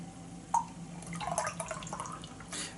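A hazy New England IPA, Maplewood Brewing Son of Juice, being poured into a glass, giving soft liquid splashes and drips with a brief gurgle, fairly quiet and close with no voice.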